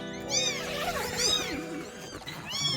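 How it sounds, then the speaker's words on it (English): Loud, high-pitched meows from four foster kittens in a pop-up pen, repeating every second or so, close by and overlapping with faint background chatter. "kittens in a pop-up today and they're so loud"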